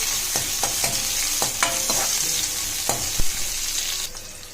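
Capsicum fries in a pan for sago khichdi. Irregular scraping stirs cut through a steady background sizzle, close and fairly loud, with no talking.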